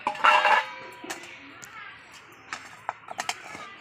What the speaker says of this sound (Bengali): এবার আমি ঢাকাটা তুলে নিচ্ছি